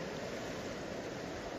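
Floodwater rushes down a stream in a continuous, even wash of noise. It is fairly faint and fills the whole moment, with no voices.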